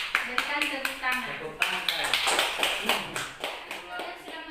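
A classroom of students applauding, a dense burst of many hands clapping close by, rising and then fading, with voices mixed in.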